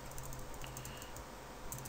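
Steady, fast keystrokes on a computer keyboard run through the whole stretch, close to the mic and fairly faint, with no voice over them.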